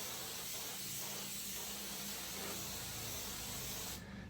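Aerosol spray released in an office, a steady loud hissing jet that runs for about four seconds before cutting off abruptly, heard alone without talking.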